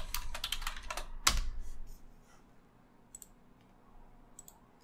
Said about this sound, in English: Enter my password.